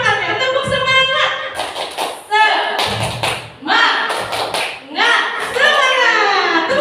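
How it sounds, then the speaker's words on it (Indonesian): A group of teachers at a school training session does a rhythmic 'tepuk semangat' clapping chant, with sharp claps in patterned bursts mixed with loud chanted voices throughout. "Tepuk tangan untuk kita semua."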